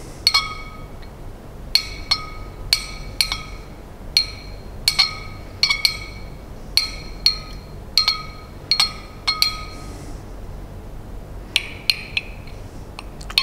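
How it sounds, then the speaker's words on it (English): A glass rod taps and clinks against glassware while crushing potassium hydrogen phthalate crystals, bright sharp ticks landing in irregular clusters of two or three, crisp and close against quiet lab background. "it's worth sort of crushing the last few crystals with the glass rod in order to"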